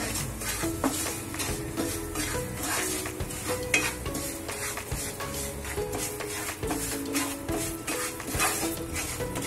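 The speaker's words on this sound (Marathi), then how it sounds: "मंद गॅसवरती आपल्याला हे मेथीचं पीठ भाजून घ्यायचंय." Fenugreek (methi) flour being stirred and dry-roasted in a pan over a low flame for methi ladoo, giving a steady scraping stir with a soft continuous sizzle and regular spoon strokes throughout, close and clear.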